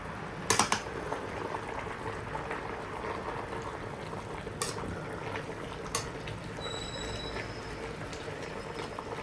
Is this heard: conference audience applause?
no